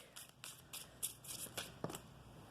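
Moonology oracle cards being shuffled for a reading: a close, quiet run of rapid riffling and flicking bursts in a steady rhythm, with no talking.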